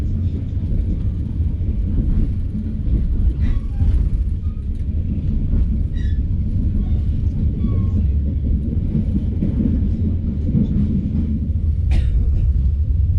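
A Walahar passenger train on the Cikarang–Purwakarta line rumbles along the rails: a loud, continuous low roar with wheel-on-track clatter and faint squeals and clicks over it.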